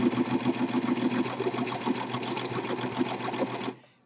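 A Singer Pro 5 serger runs fast while chaining off thread, a dense close whirring and rapid clatter holding steady for several seconds before the motor stops abruptly and the sound dies away.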